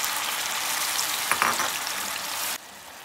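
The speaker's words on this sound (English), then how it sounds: "So I'm gonna fry up my ingredients a little" Blended seasoning fries in about 1.5 tablespoons of coconut oil in a pan, making a loud, steady, close sizzle with a short stir in the middle before the sound drops suddenly toward the end.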